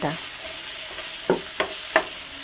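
Ginger, capsicum, tomato and green chillies are stirred as they fry in a pan over a low gas flame, giving a soft, steady sizzle with three or four sharper scraping stir strokes near the end.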